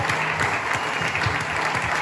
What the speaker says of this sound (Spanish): Un aplauso para María Enrique